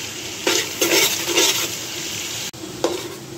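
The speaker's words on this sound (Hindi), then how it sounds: "मैं प्याज को फ्राई कर रही हूँ" Onions fry in a pan in a home kitchen while chole biryani is being made. A steady close sizzle runs throughout, and several scraping stirs rise above it.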